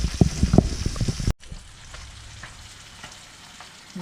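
Pecan-crusted speckled trout fillets frying in a pan, a loud crackling sizzle close up that drops abruptly to a softer, steady hiss, with no talking.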